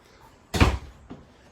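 Pantry door in a 2020 fifth wheel RV opening with a sharp close clack and a short rattle, followed by a fainter knock about half a second later.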